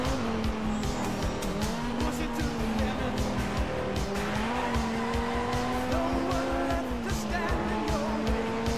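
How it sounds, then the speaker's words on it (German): Viper V10 engine in the racing game Test Drive Unlimited, a steady loud droning engine note rising and falling with gear changes, with tire squeal and skids over it and a voice talking at times. "V10 ist so oder so ein schöner Motorklang."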